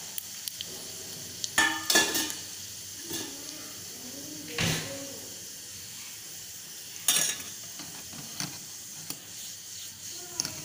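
Mustard seeds and cumin seeds pop and crackle in a spoonful of hot oil for a tadka, scattered sharp spits and small bursts over a soft steady sizzle, close by and fairly quiet.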